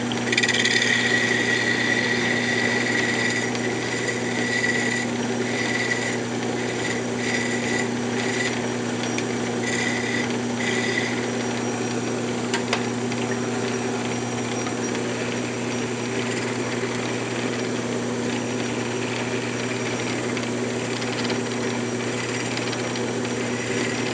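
A wood lathe spins a wooden dowel as it is turned down and tapered, giving a steady, continuous motor whine with a constant hum throughout. No voices are heard.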